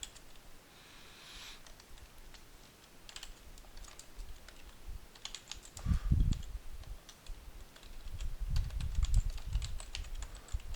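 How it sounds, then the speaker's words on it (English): Typing on a computer keyboard, with a soft run of quick, irregular clicks that turn louder and denser in bursts toward the middle and end. "I'll actually type something in"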